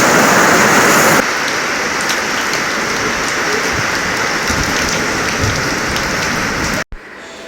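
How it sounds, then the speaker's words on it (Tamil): Steady heavy rain pours down outdoors, a dense continuous hiss of drops hitting surfaces, loud and unbroken for most of the stretch before cutting off abruptly near the end. "நல்ல மழை வேறு"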